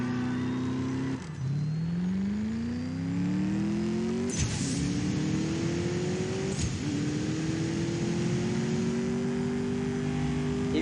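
Race car engine in the mobile racing game CSR2, revving up steadily through several gear shifts with sharp breaks between rising whines, continuous and moderately loud with no talking.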